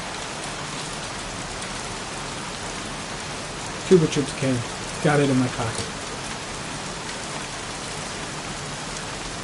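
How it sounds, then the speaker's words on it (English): Steady heavy rain hisses evenly throughout a scene in the video game Heavy Rain, with two brief bursts of someone speaking partway through. "Goddamn rain. Soaking wet."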